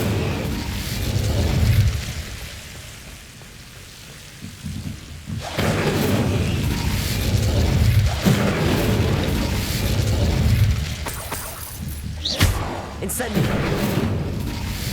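The Incendio fire spell in Hogwarts Legacy lets out deep, rumbling booming blasts. Heavy roars swell and fade over a steady low rumble, with sharper bursts later on.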